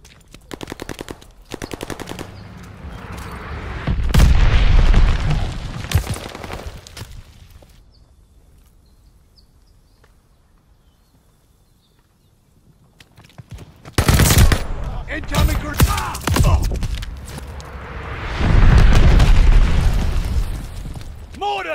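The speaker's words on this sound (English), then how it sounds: "Mortars incoming!" Mortar blasts and machine-gun fire in a Call of Duty Vanguard battle, booming explosions and rattling bursts in two loud waves separated by a quieter lull, with shouted voices mixed in.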